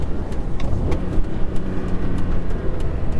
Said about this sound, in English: rev matching is one of those things I'm pretty good at